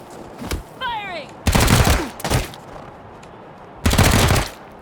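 Combat gunfire in the video game Wasteland 3 comes in loud, close bursts of rapid automatic fire, three main volleys separated by short pauses, with a voice heard briefly early on.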